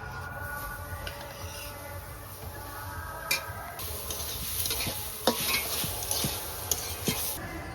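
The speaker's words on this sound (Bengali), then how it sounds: "এটা আমি এখন কি করব হালকা করে ভেজে নেব" Grated coconut lightly frying in a wok, a steady close sizzle with scraping stirs and occasional metallic clicks of a utensil against the pan, no talking.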